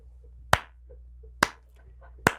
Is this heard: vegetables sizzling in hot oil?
no